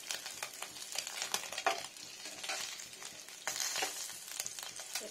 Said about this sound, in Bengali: স্লো আঁচের পর আবার আঁচটা বড় করে দিলে পুরো মাছটা একদম কটকটে ফ্রাই হয়ে যায়